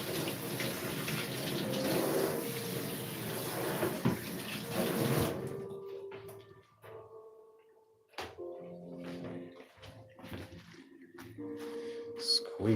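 Tap water running loudly over sauerkraut being washed for five seconds, then shutting off, leaving quieter squishy handling, clinks and drips close by.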